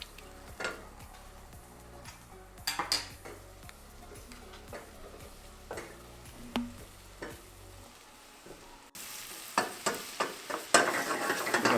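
Mushrooms hit a hot pan with garlic in oil and butter, starting with scattered utensil taps and clicks over a light sizzle, then jumping to a louder, brighter hiss near the end, punctuated by sharp stirring knocks.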